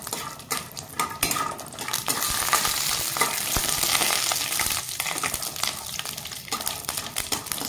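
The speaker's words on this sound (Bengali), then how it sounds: "তো চীনাবাদামটাকে আমি প্রথমে ভেজে নেব তেলের মধ্যে দিয়ে।" Peanuts frying in hot oil in a wok, a steady close sizzle and crackle with occasional stirring and metal clinks, no talking.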